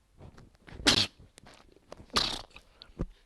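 A person sneezes twice during a French-language Age of Empires 2 DE gameplay session, two sharp, loud bursts about a second apart with small clicks and faint noises between them.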